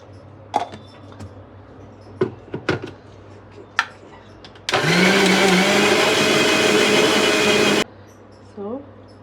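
A kitchen blender whirs loudly and steadily for about three seconds while cake batter or coating is being mixed, between clicks and handling noises, with short bits of voice before and after.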